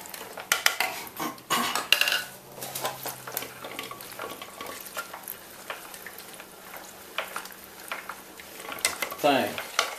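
Tomatoes being crank-processed through a Johnny Model 250 food strainer, giving a run of close, busy wet squishing and clattering knocks with irregular rhythm, loudest at the start and end.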